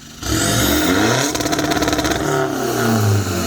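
A remapped 2022 car engine with an aftermarket exhaust revs hard and bounces against the rev limiter in drive mode 2, producing a rapid stuttering burble amid loud, sustained engine roar.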